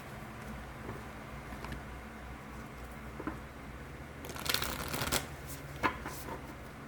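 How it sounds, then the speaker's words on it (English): Oracle cards are shuffled by hand in a quiet room: faint soft rustling at first, then a louder flurry of riffling and card slaps near the end, close to the microphone with no talking. "let me go ahead and pull us an oracle card as well"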